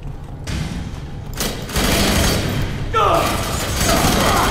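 Enemy gunfire crackles in the shooter game F.3.A.R., with bursts of shots and heavy thumps that grow louder in the second half, punctuated by booming impacts.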